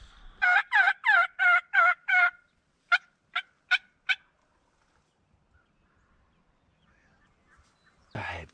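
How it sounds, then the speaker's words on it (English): Wild turkeys gobble during a Wisconsin spring youth hunt: five loud, rapid gobbles in a row, then four shorter, farther calls, leaving near silence until a brief rustle at the end. "there are turkeys gobbling absolutely everywhere, every direction"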